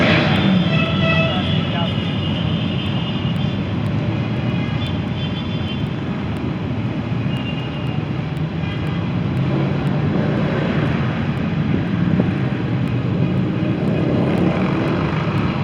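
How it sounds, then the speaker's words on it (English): A large crowd of motorbikes rides past on a city street, a loud continuous rumbling roar of many engines that stays dense and close throughout. "It's a whole lot of bikes riding past, and that's why we stopped."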